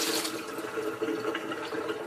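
Dirty water pours out of a glass hookah base in a continuous, close, splashing gush that lasts about two seconds, with no talking.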